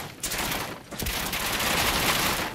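Dense rapid gunfire in Fallout 4, a sustained fusillade of automatic shots at fairly close range, loud and continuous with a short dip near the start.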